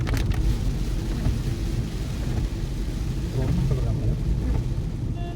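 Heavy rain drumming on a moving car during a road trip from Bangalore, a dense steady wash over low road rumble, with voices talking over it.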